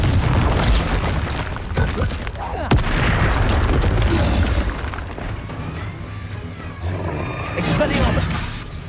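Repeated booming blasts from the Confringo blasting spell in the game Hogwarts Legacy, loud low explosions and crackling impacts filling a chaotic duel, with a sharp hit near the middle.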